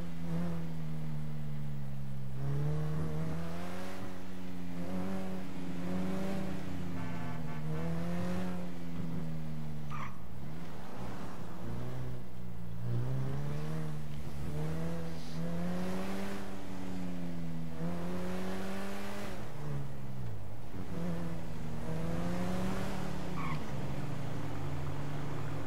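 A car in Grand Theft Auto V drives and slides out of control, its engine revving up and down in repeated surges for the whole stretch. It sounds close and loud, with tyre noise as it skids.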